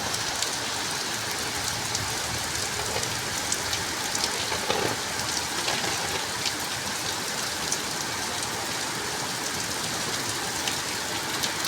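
Heavy rain pours steadily outside an electricity board office in a village, a dense, continuous wash of falling water with occasional louder drops and no voices.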